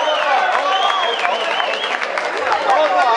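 Crowd at a live salsa concert in Toronto applauding and cheering, a loud continuous wash of clapping with shouting voices and babble layered on top throughout.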